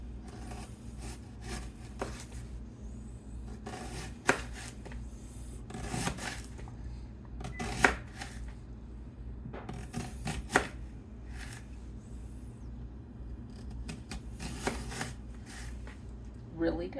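A knife cuts onions on a cutting board in a home kitchen, irregular bursts of chopping and scraping strokes spaced across the stretch, heard under ongoing conversation.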